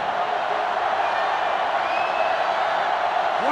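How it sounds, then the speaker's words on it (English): A sellout stadium crowd in the video game NCAA Football 2005, Georgia Tech against Georgia, makes a steady, loud, dense roar with no break. "This sellout crowd is really making a difference now as these guys can't even call the play."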